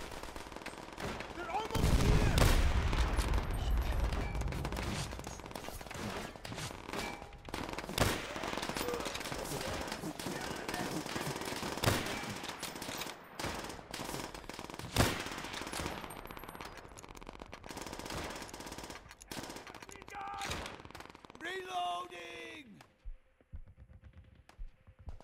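Gunfire in the World War II shooter game Call of Duty: World at War, with bursts of machine-gun fire and scattered rifle shots over a continuous battle din, loud and close, with shouted voices mixed in.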